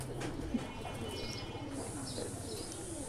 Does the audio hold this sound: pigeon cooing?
yes